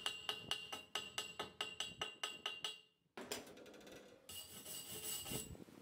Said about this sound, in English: Once the weld cools, we can chip off the slag and clean it up with a wire brush.